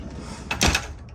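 A pocket door in a 2014 Tiffin Allegro 32CA motorhome slides along its track, giving one short, soft rolling swish with a light bump as it settles, close and quiet.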